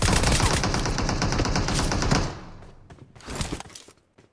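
Gunfire in a battle royale shooter game, with a dense burst of rapid automatic shots for about two seconds, then a few quieter scattered shots and thuds fading out. No voices are heard.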